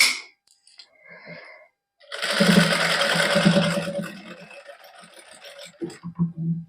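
Domestic sewing machine stitching fabric for a sleeve, running in one steady whirring burst of about two seconds after a few soft handling noises, with quiet shuffling at the end.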